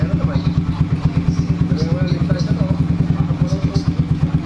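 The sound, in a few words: Rusi TC Macho 125 motorcycle engine idling after carb install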